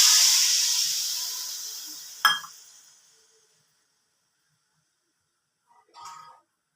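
Water poured onto hot fried spice paste in a pan for a Gandhoraj katla fish curry gives a loud hiss and sizzle that fades away, followed by a brief clatter.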